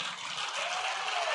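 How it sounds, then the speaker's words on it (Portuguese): Church congregation clapping during a Sunday morning service, a dense steady wash of hand claps filling the space at moderate level with no break. "Aplauda bem forte ao Senhor."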